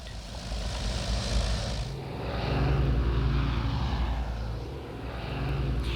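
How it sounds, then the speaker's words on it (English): The Junkers G-38, a giant German pioneering airliner, drones steadily in flight, its engines producing a loud, continuous propeller roar that swells slightly midway and holds throughout without speech. "This was another German pioneering giant, the Junkers G-38."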